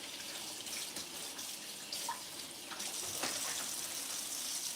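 A kitchen sink faucet runs in a steady, fairly quiet splashing stream as peeled food is rinsed under it, with slight changes in the flow as the item moves through the water.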